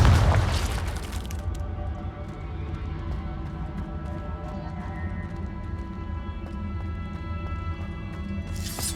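A Confringo blasting spell in Hogwarts Legacy bursts with a loud explosive boom at the start, then a sustained low rumbling, droning game sound fills the rest.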